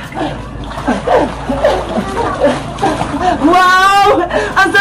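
Water splashes loudly as someone enters a swimming pool, a bright sloshing burst after lively chatter and chuckling, with voices continuing over the churning water.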